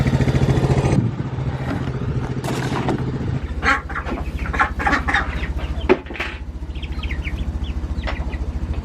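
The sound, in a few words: farm ducks and chickens calling loudly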